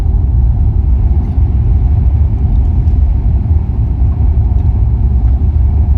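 A pickup truck cruises along a scenic Texas hill-country road near Vanderpool and Leakey, a steady loud low cabin rumble of engine and tires with no voices.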